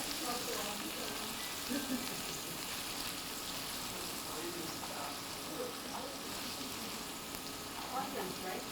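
A cup of onion frying in a pan, a continuous soft crackling sizzle throughout, fairly quiet, with a voice talking faintly in the background.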